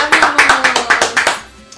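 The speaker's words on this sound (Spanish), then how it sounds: "un aplauso" A handful of people clap in a steady burst of about ten claps that stops abruptly, close and fairly loud, with a tonal hum running beneath.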